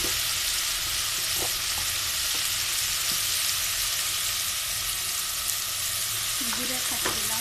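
Chili powder and spices fry in oil for a hilsa fish and pointed gourd curry, giving a strong, constant sizzle with light stirring knocks and scrapes, and a faint voice briefly near the end.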